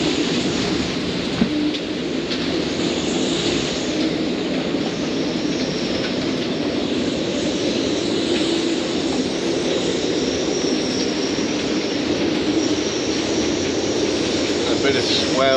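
Hurricane Norma's wind roars steadily at La Paz, a constant loud broadband rush with no lulls, as if heard from a boat at the docks, with a voice buried faintly underneath.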